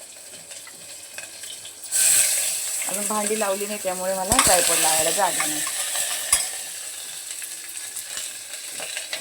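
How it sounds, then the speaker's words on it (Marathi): Onion and tomato sauté in a pan for khichdi, a steady sizzle that starts suddenly and runs throughout. Someone speaks over it at close range. "कांदा टमाटा चांगला परतून घेतला"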